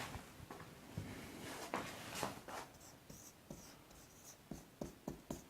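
Writing on a board during a lecture, heard as quiet, close scratching strokes and sharp taps in an irregular rhythm, with no talking.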